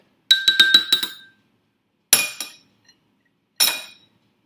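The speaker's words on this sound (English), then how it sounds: "I'm going to stir it all up." A spoon stirs water in a glass, sounding as three quick bursts of bright ringing clinks against the glass separated by short silences, close and clear, with no talking.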